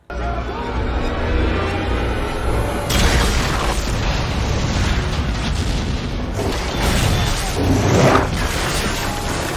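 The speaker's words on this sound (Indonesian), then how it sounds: "Travis telah memasang peledak di dalam mobilnya dan seketika gedung tersebut meledak" A car bomb levels part of a building in a film scene: a sustained, loud explosive roar with a heavy low rumble, fresh bursts of debris and crashing at about three, six and eight seconds, continuing without letup.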